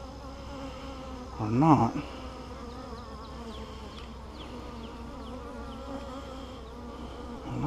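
Honey bees buzzing on the comb of a newly installed hive during a first inspection, a continuous close swarm drone with individual bees passing by, with a brief spoken phrase over it.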